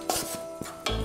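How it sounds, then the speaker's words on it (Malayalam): Rice and prawns being stirred together for a Kerala-style prawn biryani, with a few soft scraping strokes of a spoon in a pot and a louder clatter near the end, no voices. "അരി ഇതുകൂടി ചെമ്മീൻ്റെ കൂടി മിക്സ് ചെയ്യുക"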